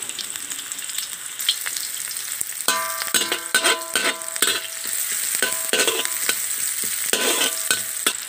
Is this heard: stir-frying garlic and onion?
yes